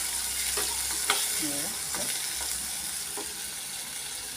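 Onion and coriander frying in a pan, a soft continuous sizzle with a few light stirring scrapes, no voices.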